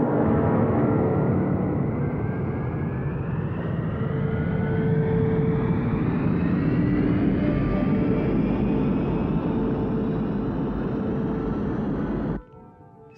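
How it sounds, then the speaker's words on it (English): Sustained roaring spacecraft liftoff engine effect from the Terrahawks puppet series, a loud, steady rumbling blast with a slowly rising whine, heard alone for about twelve seconds before cutting off abruptly. "Prepare for liftoff."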